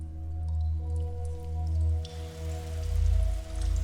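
In-game rain in The Signifier falls as a steady hiss over a loud low droning hum and faint sustained tones, the rumble swelling and dipping while the rain noise stays constant.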